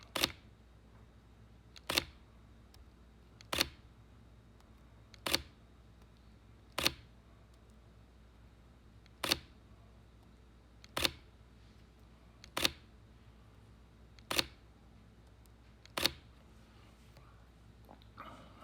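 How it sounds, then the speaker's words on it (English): Mechanical shutter of a camera firing again and again, roughly every one and a half seconds, eleven sharp clicks in a quiet room. "I was shooting with mechanical shutter, so there's more blackout than you would normally get."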